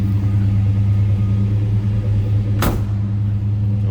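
A 1968 Ford Torino GT fastback's 390 V8 idles shortly after a cold start, a loud, steady low rumble heard from behind the car, with one brief sharp click or thump partway through.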